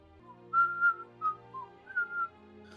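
A man whistles a short, wandering tune at a tabletop fantasy game session, several clear rising and falling phrases with brief pauses between them, fairly close and alone without talk.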